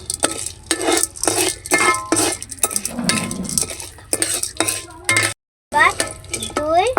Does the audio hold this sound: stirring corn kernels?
yes